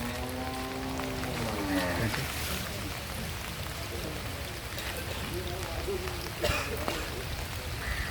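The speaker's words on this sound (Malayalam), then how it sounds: "ഇപ്പം മഴ ഇച്ചിരി കുറവാണ്" Steady rain falls at a flooded Shiva temple in Aluva, a constant broadband wash with a voice speaking over it early on and a brief louder splash later.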